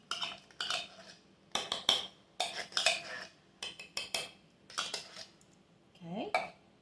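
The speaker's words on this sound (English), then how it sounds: "I'm going to spread it out where it's all got the noodles covered up." Canned chili spread with a utensil over manicotti noodles in a pan, heard as a run of close, irregular scrapes and clinks against the dish, with brief pauses between strokes.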